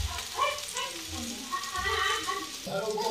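Manchurian balls frying in oil in a home kitchen, with sauce poured in and sizzling steadily and close for a few seconds, with soft clatters from the pan.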